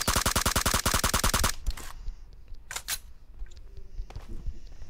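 Rapid burst of automatic gunfire in a battle royale shooter game, a dozen close, loud evenly spaced shots in the first second and a half, followed by a few scattered fainter game sounds.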